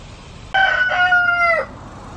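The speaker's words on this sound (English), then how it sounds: "This chicken was hatching eggs for us." A chicken crows once, close and loud, a clear drawn-out cock-a-doodle-doo lasting about a second that drops in pitch at the end, with quiet outdoor background before and after.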